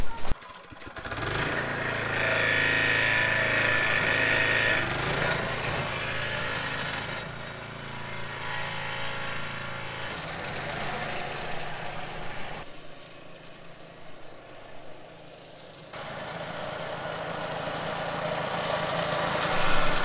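A lawn mower engine runs steadily on an overgrown lawn, a close, continuous drone that drops lower for a few seconds midway, then swells back up.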